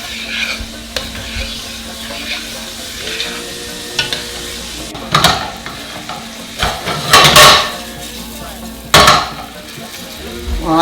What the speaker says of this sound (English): And while they're browning, I'm going to give this a stir.